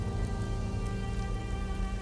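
Steady rain pours down in the video game Wuthering Waves, a dense, continuous hiss of drops on surfaces with a faint low rumble beneath, heard alone without voices.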